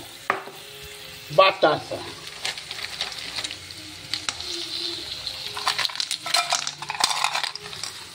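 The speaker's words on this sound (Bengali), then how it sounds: "এবার এর মধ্যে আমি বাতাসা দেব" Batasha sugar drops are added to a wok of raw papaya chutney, giving a few close clinks and rattles over a soft sizzle and stirring scrapes.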